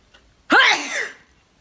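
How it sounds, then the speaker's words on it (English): One loud, explosive sneeze bursts out close to the microphone after a short silence, then trails off quickly. "our familial, earth-shattering, tsunami-stopping, intruder-scaring-away sneeze"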